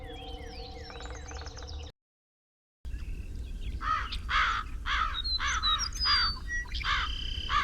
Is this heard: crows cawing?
yes